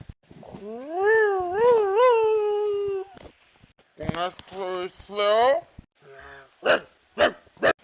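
A dog howls in long, wavering cries, then gives a few sharp, spaced barks near the end, with a person speaking briefly in between.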